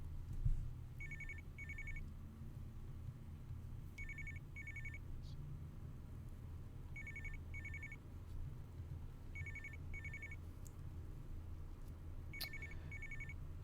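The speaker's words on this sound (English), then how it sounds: "I'm sorry about the ringing" A telephone bell rings in repeated paired bursts every few seconds, faint and thin above a low steady background rumble, with no talking over it.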